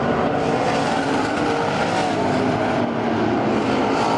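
IMCA modified race cars roaring around a Central Arizona speedway dirt track, a loud continuous engine drone from several cars racing at once, close and steady with no voices.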